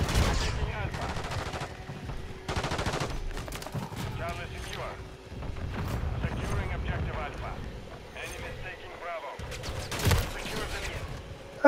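Video game shooter gunfire crackles in repeated bursts and scattered single shots near a semi truck, with muffled explosions in between, while a player talks over much of it.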